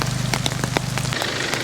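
Steady rain drums on a surface during a muddy 4x4 trip through a flooded national park, a dense close hiss of drops that goes on for the whole clip.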